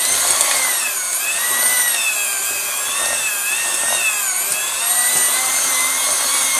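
An electric hand mixer beats eggs into lemon pound cake batter with a loud, continuous high whine whose pitch wavers as the beaters move through the bowl, with no talk.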